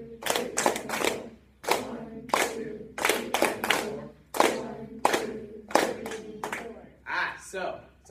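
Students in a classroom clap their hands in a steady counted beat, sharp claps ringing out one after another with talk in between.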